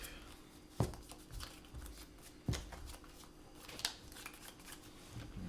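A deck of playing cards is shuffled during a Duel Commander game, with a few sharp riffle snaps and soft card rustling at close range and no talking.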